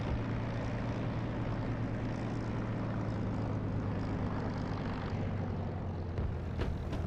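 A Supermarine Spitfire Mark 9's propeller engine drones steadily and loudly as the plane taxis in a flight simulator game, holding one even roar throughout with no talking.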